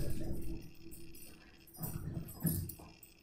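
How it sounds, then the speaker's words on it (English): Dogs scuffling in another room, heard as muffled, distant growls and yips in a few short bursts behind a quiet indoor space. "Even your crazy dog fighting outside of the room."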